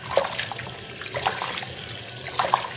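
Tap water runs and splashes while orange peels are rinsed and squeezed in a sink, a steady close stream with a few brighter splashes and drips breaking through.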